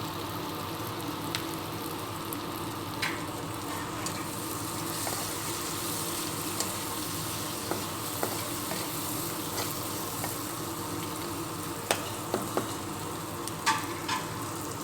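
Liver fry sizzling steadily in a pan with chopped coriander, a continuous close crackle with occasional sharper pops and stirring clinks, no voices.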